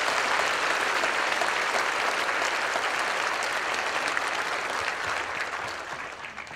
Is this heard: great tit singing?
no